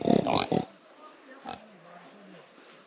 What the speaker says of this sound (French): T'es un cochon.